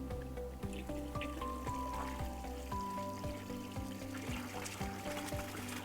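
Pond water with fish poured from a bucket into a greenhouse pond, a soft continuous trickling and splashing stream with faint repeated knocks, quiet and close.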